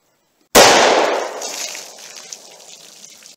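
A single loud, close gunshot from a .357 Magnum revolver loaded with Hornady Critical Defense ammunition cracks suddenly, then rings and echoes outdoors in a slowly fading tail.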